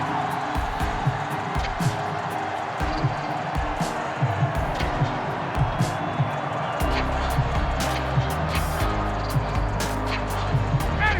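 Stadium crowd in a Madden 22 football game roars steadily throughout, with swelling cheers and bursts of noise under engine-like low rumble, the noise lifting after a defensive stop on fourth down.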